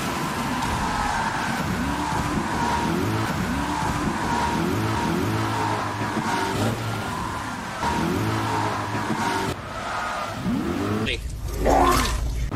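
A driving video game with race cars revving and shifting through repeated engine sweeps, loud and continuous, ending in a burst of tire squeal and skidding.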